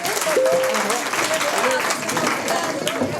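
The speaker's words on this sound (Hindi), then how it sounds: "एक बार जोरदार तालियां बजाइए।" Applause from an audience at a senior citizens' club birthday gathering, steady and fairly close for a few seconds, with voices and some singing-like tones over it.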